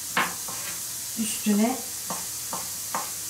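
Potatoes frying in a pan at home, with a steady sizzle under someone speaking in Turkish and a few soft stirring scrapes.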